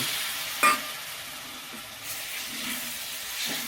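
Spice paste cooking down in oil gives a constant close sizzle and hiss, broken by a few sharp stirring scrapes of a spoon against the pan, with no talk.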